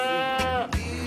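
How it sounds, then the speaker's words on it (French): Alpine goats in a barn housing a herd of about fifty-five, loud close bleats: two or three wavering calls in quick succession, one overlapping another. "Le troupeau se compose de 55 chèvres en ce moment. C'est des alpines"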